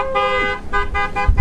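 A vehicle horn sounds while cattle are being herded, giving a few short, loud tonal toots in a choppy rhythm, close by.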